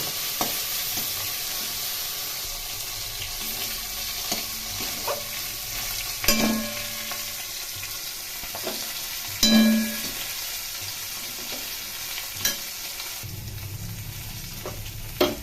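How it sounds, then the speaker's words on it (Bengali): Fried red spinach (lal shak) stirred in a pan: a steady close sizzle with scraping spatula strokes and a few sharper clinks against the metal, with no talking. "লাল শাক ভাজা হয়ে গেছে এখন এটি নাড়াচাড়া করে অন্য পাত্রে নামিয়ে নেব"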